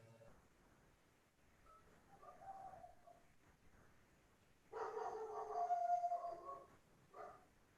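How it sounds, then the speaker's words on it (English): A dog indoors, downstairs in a house, makes faint howling or whining sounds in the background, rising to a louder stretch near the end. "Excuse the dog in the background."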